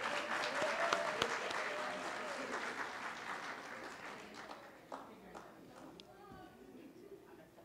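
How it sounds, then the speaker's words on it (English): Audience applause at the 2nd Annual ALHANA Ceremony, a dense steady wash of clapping from a crowd that slowly fades over several seconds, with a host's voice briefly heard over it. "Let's give her a round of applause, please."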